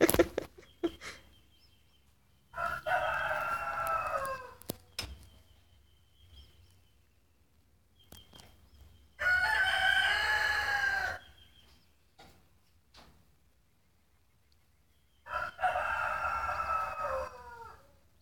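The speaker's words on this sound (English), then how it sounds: "and a very loud rooster." A very loud rooster crows three times, each call about two seconds long and spaced several seconds apart. It sounds near and stands out clearly against a quiet background.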